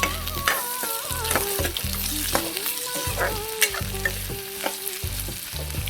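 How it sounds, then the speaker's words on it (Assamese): Onion and two green chillies sauté in a hot pan with bay leaves, a steady loud sizzle broken by repeated scraping stirs of a spatula, no voices. "তাৰপিছত দিম পিঁয়াজ আৰু জলকীয়া দুটা। এইখিনি মই এতিয়া ভালকৈ ছটে কৰি ল'ম"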